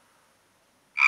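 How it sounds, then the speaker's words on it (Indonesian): In an animated film about the plague of frogs in Egypt, a single loud frog croak breaks out suddenly at the end after near silence. "Lalu Tuhan memenuhi rumah orang Mesir dengan katak."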